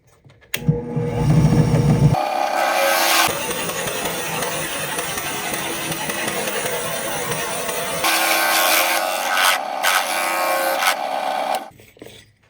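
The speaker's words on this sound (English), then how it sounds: "so I'm gonna drill with the spade bit first." A drill press with a spade bit bores into a wooden workpiece with a loud, rasping grind, the motor pitch shifting as the bit cuts, then spinning down to quiet.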